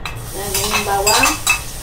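Garlic cooking in olive oil in a home kitchen pan, a soft sizzle with a few light scrapes and clinks of a utensil stirring, brief and close.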